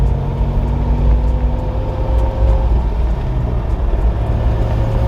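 A Toyota 4Runner cruises on pavement at about 2000 RPM, giving a steady, loud low engine drone and road rumble with a faint whine, continuous and without speech.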